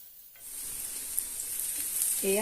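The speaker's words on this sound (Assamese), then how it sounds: "এয়া দিছো চপ কৰি ৰখা পিয়াজখিনি এয়া দিছো আদা নহৰুৰ পেষ্ট আৰু ভালদৰে ভাজি লম গুটেখিনি" Chopped onion with ginger-garlic paste frying in hot oil alongside bay leaf and dried chilli, a steady close sizzle rising after a quiet start, with a voice speaking briefly at the end.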